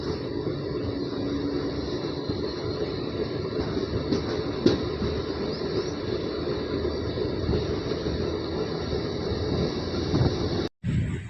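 A passenger train heard from a seat inside the carriage: a continuous loud rumble of wheels on rails with rattling and a brief squeal, steady throughout until a short dropout near the end, with no talking.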